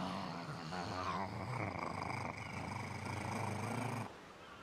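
A person imitates a cat's purr in the Like A Dragon video game, a steady, low rumbling drone that carries on for several seconds close up before dropping away near the end.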